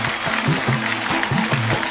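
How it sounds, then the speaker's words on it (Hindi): A crowd claps steadily and loudly, with a voice faintly audible through the applause. "सर के लिए और जोर से तालियां प्लीज"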